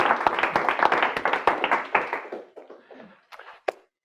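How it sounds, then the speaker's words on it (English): An audience claps for a speaker at a talk, a burst of close, sharp hand claps that thins out after two seconds into a few stray claps and fades. "what do we do when we imagine something like that? We clap for him."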